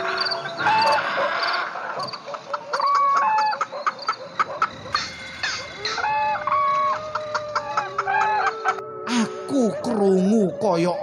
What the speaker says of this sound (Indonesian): Kaya ana pitik babon ngengkremi anake. Amarga keprungu kriyik-kriyik kaya anak pitik.